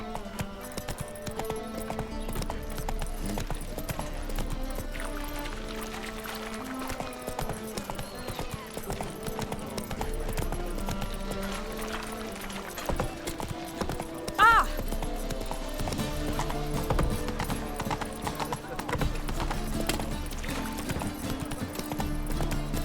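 A horse gallops in the video game The Witcher 3, with steady rhythmic hoofbeats running throughout under game music and ambience, and a brief whinny partway through.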